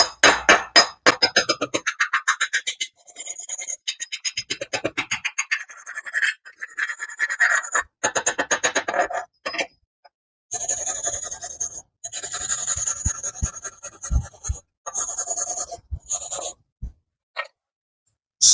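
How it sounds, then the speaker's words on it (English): Chipping hammer and wire brush clean slag off a cooled stick (SMAW) weld: rapid rhythmic scraping and brushing strokes come in bursts with short pauses, then sharper separate taps and scratches, close up and fairly loud with no talk. "then you remove the slag with a chipping hammer. You also get the wire brush."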